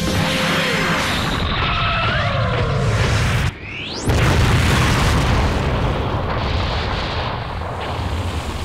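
A cartoon light grenade goes off in an animated fight, a loud, sustained roaring blast with a sharp whooshing sweep partway through, filling the whole stretch without talk.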